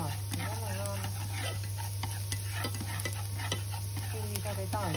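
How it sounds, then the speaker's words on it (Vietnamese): Garlic frying in hot oil in a pan, ahead of sautéed pumpkin and squash, gives a steady faint sizzle with light stirring clicks, under someone speaking Vietnamese. "Bây giờ em xào bí cho mọi người xem, em cho cái dầu rán nó già lên rồi."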